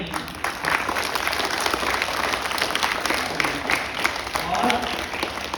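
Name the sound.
audience applause for teachers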